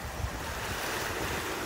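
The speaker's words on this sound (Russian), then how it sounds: "море спокойное, колышется только от ветра" Black Sea waves wash on the beach at Sochi under a steady wind, a continuous close rush of surf with wind buffeting the microphone, no voices.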